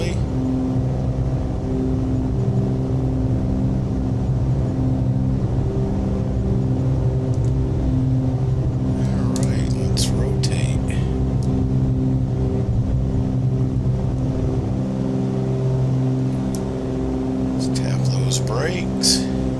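A steady, droning Cessna 414 twin-engine aircraft roars at takeoff power in a flight simulator game, with a constant low hum and tonal whine, under continuous talk.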